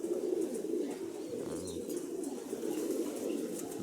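Mykolaiv pigeons cooing in a steady low murmur over continuous background noise, with no talk.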